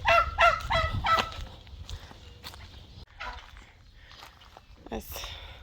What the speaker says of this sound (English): Oh, you poor drowned turkeys and chickens